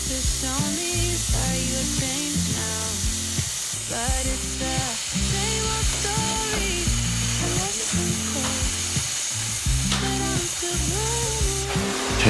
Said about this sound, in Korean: 산소 절단기를 사용해 현장에서 사용할 H빔 사이즈에 맞춰 H빔 재단